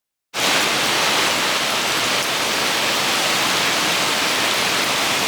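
Heavy rain pours steadily around a trail shelter in Oil Creek State Park, Pennsylvania, a dense, unbroken wash that starts abruptly and stays loud and even throughout, with no voices.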